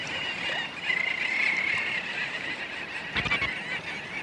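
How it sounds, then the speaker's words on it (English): A dense chorus of duck calls carries over open water, a steady overlapping din with a brief louder burst near the end. "the waters teem with common scoter and long-tailed ducks, prancing, preening, and performing"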